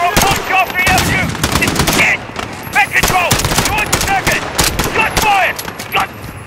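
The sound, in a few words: gunfire in video game Call of Duty Modern Warfare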